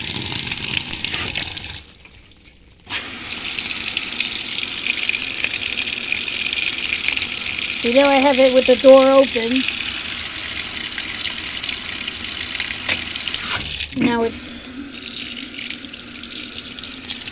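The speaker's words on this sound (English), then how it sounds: "look at how much water is getting distributed around the clothes. That is a good amount of water getting distributed around the clothes. It was putting cold water and now it's putting hot water in" A GE top-load washing machine fills with cold and then hot water around the clothes, a steady gush of water with the lid open and a few brief mechanical tones, while a person talks briefly.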